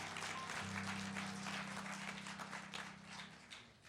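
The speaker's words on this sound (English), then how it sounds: "let's give them another round of applause" An audience claps in a steady, dense wash at a City of Lansing memorial observance honoring Rev. Dr. Martin Luther King Jr., heard at moderate distance and slowly tapering off.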